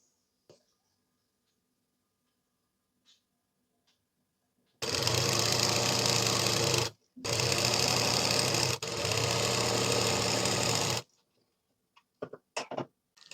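A sewing machine stitching the folded bottom hem of a chudidhar sleeve starts after a quiet stretch and runs loudly for about six seconds with one brief stop, then falls silent apart from a few small handling clicks.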